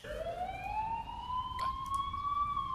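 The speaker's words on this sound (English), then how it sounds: "Why is there an ambulance here?" An ambulance siren in the Korean horror game The Coma: Recut wails in a single slow rising sweep, moderately loud over a low background rumble.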